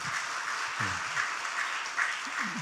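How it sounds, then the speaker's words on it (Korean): Church seminar audience clapping together, a brief dense patter of applause from a room full of people, with a faint voice underneath. "우리 박수 한번 다 치시기 바랍니다"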